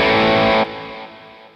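A distorted electric guitar chord on the lead setting rings out loudly, then, with the booster switched off, cuts to a quieter, thinner sustain that fades away.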